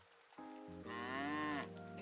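A cow in the farming video game Pumpkin Days gives one clear, drawn-out moo over soft background game music, loud and close, with no talking.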